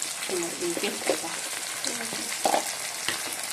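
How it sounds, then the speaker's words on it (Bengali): Whole cumin seeds fry in oil in a wok, with a continuous close sizzle and crackle while a voice speaks briefly over part of it. "কড়াইতে তেল দিয়ে ফোড়নে জিরে গোটা জিরে"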